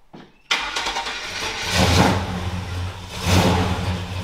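A Chevrolet Nova engine cranks briefly, then catches and fires up loud and close, settling into a rough idle with two swells of revving.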